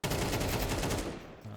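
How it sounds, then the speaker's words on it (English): Rapid pistol shots ring out in a Counter-Strike esports match, a dense burst of cracking reports that cuts off abruptly, heard from mid-distance without talk. "One of these pesky pistols."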